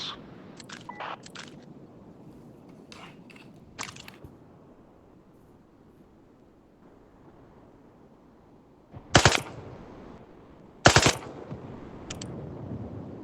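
Rifle fire at training targets in the Zero Caliber video game: a few quiet shots early, then two loud sharp bursts near the end with short tails, over near silence and no talking.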